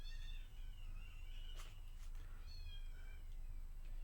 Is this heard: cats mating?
yes